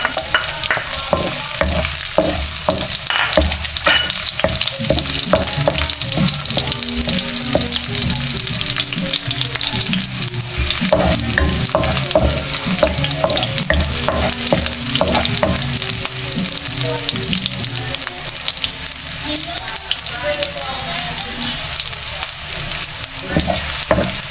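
Garlic and onion sauté in a hot pan with a loud, steady sizzle. Stirring clatter runs throughout, with no talking.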